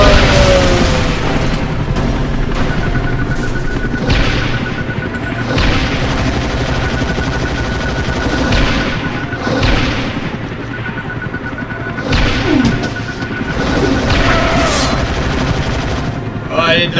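Missile explosions in the PS2 game X-Men Origins: Wolverine during a snowy outdoor escape, with repeated booming blasts and rumbling gunfire over continuous loud action noise and helicopter drone.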